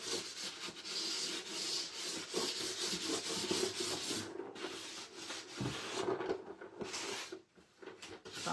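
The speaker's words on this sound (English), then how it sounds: "I am going to scuff it up a little bit or sand it a little bit" Wood being sanded by hand with worn, used 120-grit sandpaper, a steady close scratchy rubbing in repeated back-and-forth strokes, fairly quiet with brief pauses.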